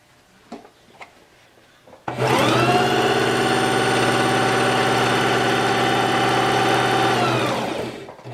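A sewing machine stitches two layers of a fabric face mask in one continuous run of about six seconds, a loud, even mechanical whir that starts abruptly after a few faint handling taps and winds down at the end.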